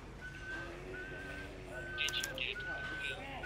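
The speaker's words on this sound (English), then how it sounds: "You're whistling." Someone whistles a tune in the video game L.A. Noire, a thin clear melody in short phrases under traffic and street ambience, with faint voices in the background.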